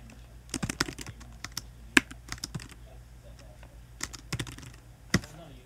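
Typing on a computer keyboard while laying out text in InDesign, with close, irregular key clicks coming in quick clusters and short pauses between them, and no one speaking.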